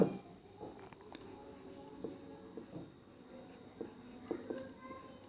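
A teacher writes out a maths equation by hand during a secondary-school lesson, with short, scratchy, irregular strokes close by. The writing is fairly quiet over low room noise.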